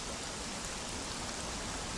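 Steady, dense rain falls in Conan Exiles, a broad continuous hiss close by with no breaks, heard from in and around a bridge overhead.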